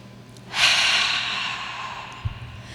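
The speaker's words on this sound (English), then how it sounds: "Hey, big breath." A single deep inhale, loud and close, swells into a long airy breath that trails off slowly, with a faint soft thump near the end, heard alone before a conference keynote talk resumes.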